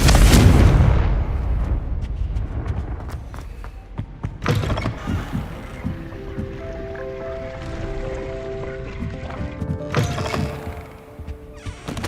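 Confringo blasting spell from Hogwarts Legacy, a loud opening burst followed by a few more booming impacts and rumbling debris, with faint tonal game music lingering between blasts.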